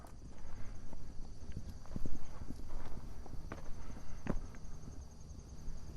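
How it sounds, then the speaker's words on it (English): Horse hooves clip-clop on prairie ground outdoors in late summer, a steady uneven patter of fairly close steps over constant insect buzz, with a few sharper knocks standing out. "Did you spook that horse?"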